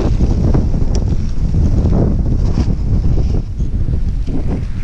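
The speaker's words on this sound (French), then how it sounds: "il y a trop de vent" Heavy wind blasts across the microphone while riding a bicycle, a loud, steady rushing roar with gusty surges throughout and no talking.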